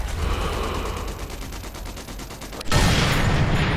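Rapid automatic gunfire rattles steadily in Sniper Elite III, a dense run of evenly spaced shots that then gives way to a heavier, louder blast of noise near the end.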